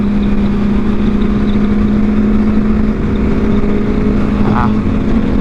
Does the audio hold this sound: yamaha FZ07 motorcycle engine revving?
yes